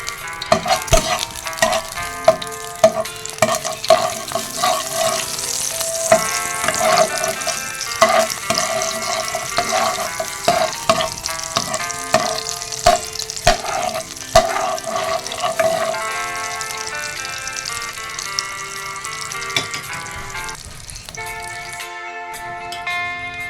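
Butter and oil sizzling in a pan at the start of cooking miki noodle soup: a continuous crackling hiss with small pops, over a steady tonal backing that fades near the end.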